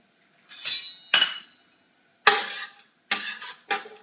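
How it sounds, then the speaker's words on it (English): Seeds tossed into hot oil in a deep skillet crackle and pop in five quick separate bursts, each a sharp sizzle that fades fast, close and clear with no talking. "I'm going to throw in the seeds."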